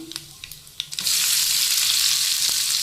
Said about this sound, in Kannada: ಸಾಸಿವೆ ಮತ್ತು ಜೀರಿಗೆನ ಹಾಕ್ತೀನಿ ಸ್ವಲ್ಪ ಫ್ರೈ ಆಗಿದ್ಮೇಲೆ ಈರುಳ್ಳಿನ ಹಾಕೋತಾ ಇದ್ದೀನಿ